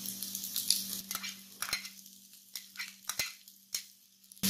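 Onion and curry leaves hit a hot pan for a bitter gourd poriyal, giving bursts of sizzling frying broken by utensil scrapes and stirring clinks, close and without speech.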